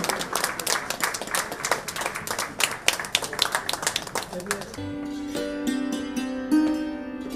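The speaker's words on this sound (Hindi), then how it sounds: "तालियों से" An audience applauds at a satsang gathering attended by the Governor of Maharashtra, with crisp clapping for several seconds before it gives way to sustained musical tones.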